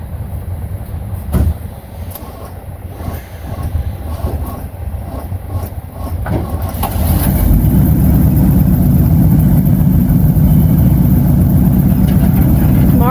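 A tow truck's engine rumbles during a wrecker recovery, quieter at first with light clanks, then jumping to a loud, steady roar for the rest of the clip.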